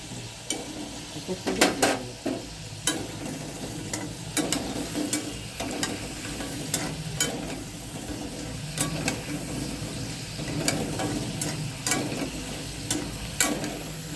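Potato French fries frying in hot oil, a steady sizzling bubble with sharp clicks and scrapes of a fork or spoon against the pan, close and fairly loud throughout.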